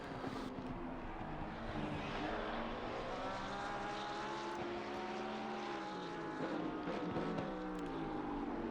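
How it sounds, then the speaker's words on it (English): A black and purple Lamborghini Huracan in a racing video game at Zolder howls steadily as its rear-mounted engine revs, the whining tones rising and falling with gear changes. "The engine in the back of that car absolutely howling away."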